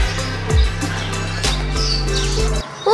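Pigeons in a pigeon loft in Faisalabad, calling with steady chirps and coos close by against a constant background hum.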